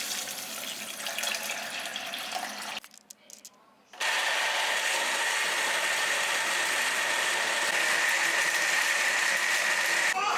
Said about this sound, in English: Black beans in blender.